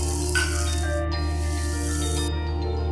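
Ground spices with Kashmiri red chilli powder for katla fish chop hiss and sizzle loudly in a hot pan as a splash of water hits it, with a steady frying hiss throughout and no voices.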